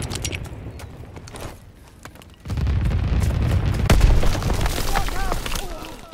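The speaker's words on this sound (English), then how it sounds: "Enemy mortar fire incoming." Mortar explosions in a Call of Duty match land as heavy, rumbling booms that swell loud and close about midway and keep crashing, with brief voice fragments over the blasts.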